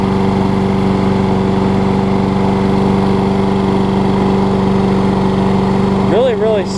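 A Troy-Bilt self-propelled lawn mower engine runs smoothly and steadily at close range, a constant even drone that holds throughout before briefly dipping near the end.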